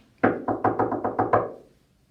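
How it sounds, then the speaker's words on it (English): Seven hollow knocks on a wooden door at a quiet night, a steady but slightly uneven series over about a second and a half, close and loud with no talking. "thunk, creak, knock."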